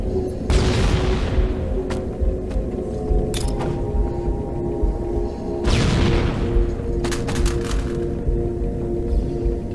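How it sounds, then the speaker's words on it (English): Heavy shotgun blasts in the video game Halo Anniversary, a couple of loud booming shots spaced a few seconds apart over a constant rumbling game soundscape. "I hate this shotgun. I love this shotgun."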